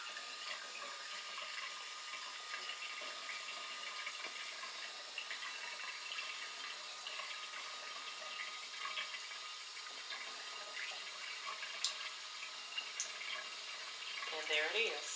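Steady hiss of hot water running from a tap in a shipping container home, continuous and moderately faint, with a few brief clinks near the end.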